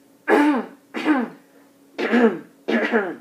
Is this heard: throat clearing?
yes